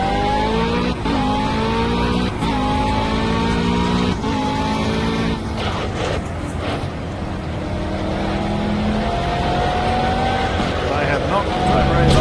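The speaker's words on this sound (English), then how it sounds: "let's laugh at me as I try and do a lap in the McLaren" A McLaren GT3 race car lapping the Dubai circuit in Project CARS, its engine screaming through rising revs with sharp gear-change breaks and downshifts, loud and close, with a voice talking over it.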